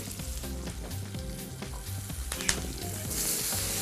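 Tomato and garlic frying in a pan for a meat sandwich, a steady close sizzle with occasional stirring clinks and scrapes, no voices.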